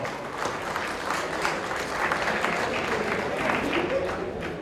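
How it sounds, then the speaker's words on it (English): Applause at a university alumni event honoring an honorary director, a dense, steady clapping from a large audience sustained for several seconds, with some voices mixed in. "Huge round of applause."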